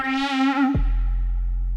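A buzzy synth tone holds a note, then its pitch bends sharply downward into a deep low drone that sustains.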